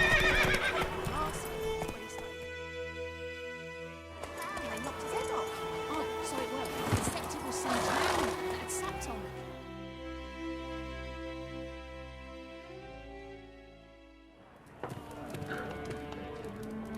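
Horse in The Witcher 3 whinnies loudly and its hooves clip-clop at a gallop, mixed with game music and a brief crash, while voices talk over parts of it.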